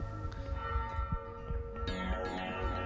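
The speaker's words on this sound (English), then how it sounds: "The bells of St. John are ringing." Church bells ring in the video game Mata Nui Online Game 2, sustained metallic tones that sound faintly beneath other steady game sounds, with no talk.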